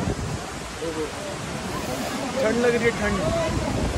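Cold mountain wind in North Sikkim near Lachen and Lachung, a steady broadband rush that swells slightly toward the end, running under people talking close by.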